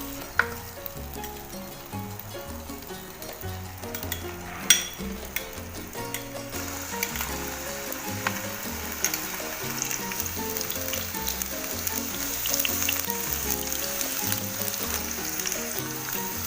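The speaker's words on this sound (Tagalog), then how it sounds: "First, i-fry muna natin yung potato." Potato pieces fry in hot oil in a pan for a chicken kaldereta, giving a steady, continuous sizzle with occasional light clinks, close and alone.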